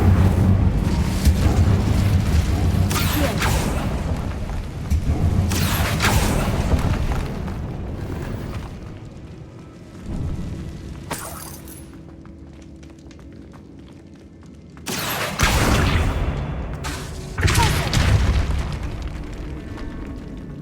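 Fiery Incendio spell blasts erupt in Hogwarts Legacy inside a decaying catacomb, loud booming bursts that roar for several seconds, then a brief lull before more explosive whooshes.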